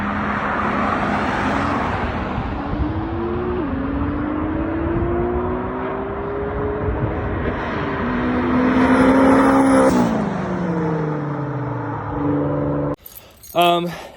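Engines of a Honda S2000 and a Nissan GTR drone loudly and continuously while racing, pitch rising and falling through gear changes and swelling as the cars pass close. A brief pause near the end breaks the sound.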